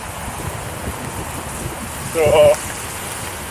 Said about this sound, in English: Even if it's raining, it's like a good rain.